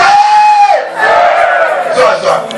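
A loud crowd shouts and yells together in a sustained roar. A single drawn-out voice leads at the start before the mass of shouting swells.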